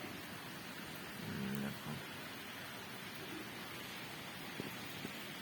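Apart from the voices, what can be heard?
rain falling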